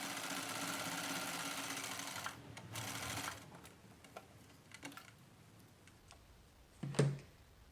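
A sewing machine runs a fast, steady stitch through quilt fabric for a couple of seconds, then stops, followed by quieter clicks and handling noises and one sharp knock near the end.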